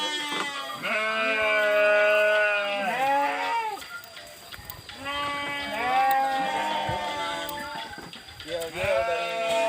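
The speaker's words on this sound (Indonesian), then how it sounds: "kandang domba dan juga ada sapinya tuh" Sheep in a village pen bleat loudly and at length, several overlapping wavering calls that come in two long bursts with a short lull between, close by, over faint outdoor background noise.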